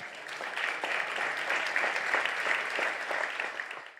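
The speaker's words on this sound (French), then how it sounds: "c'est le temps d'applaudir nos finalistes." An awards-ceremony audience applauds the finalists, a broad, even wash of many hands clapping that swells in and tapers off at the end, at moderate loudness with no speech.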